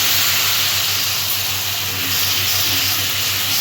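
Ginger paste hits hot oil already seasoned with turmeric and chili powder, giving a loud, steady hiss and sizzle that holds evenly for several seconds under a low background hum.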